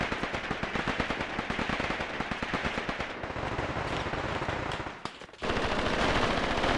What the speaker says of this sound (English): And now you are starting to receive machine gun fire. Actually, that's an MP40 by the sounds of it.